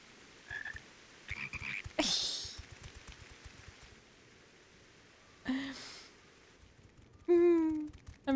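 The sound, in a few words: toads croaking in video game Final Fantasy XIV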